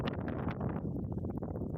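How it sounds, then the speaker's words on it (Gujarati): Strong wind gusting against the microphone, a loud, continuous low rumbling roar with no clear pauses. "વરસાદ નથી પણ પવન બહુ છે એવું છે"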